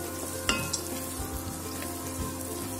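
Beans frying in a pan for a vegetable biryani, a steady close sizzle with a few sharp clinks and stirring scrapes, no voices.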